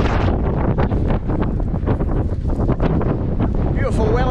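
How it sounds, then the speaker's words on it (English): Strong winter wind in Wellington, New Zealand buffets the microphone in loud, gusty bursts, a constant roaring blast with no clear voices. "Beautiful Wellington conditions. Windy as."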